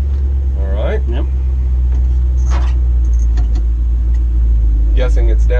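A 1966 GMC's engine rumbles steadily and loudly from inside the cab during a drive, a constant low drone under intermittent talk from the occupants.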